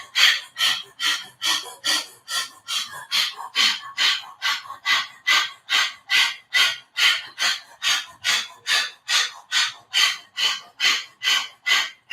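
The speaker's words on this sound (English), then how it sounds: "You just swallow a few times and you go back to this breath of fire." Breath of fire yoga breathing: rapid, forceful rhythmic exhalations through the mouth with the tongue stuck out, about two per second, close and steady for the whole stretch.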